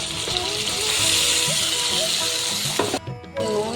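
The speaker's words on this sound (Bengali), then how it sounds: "আদা, কাঁচা লঙ্কা, শুকনো লঙ্কার গুঁড়ো আর জিরের গুঁড়ো পেস্ট করে নিতে এটা ঢেলে দিচ্ছি" A spice paste of ginger, green chilli, red chilli powder and cumin is poured into potatoes frying in hot oil, bringing a loud continuous sizzle and splatter. A voice talks over it, then the sizzle briefly drops away near the end.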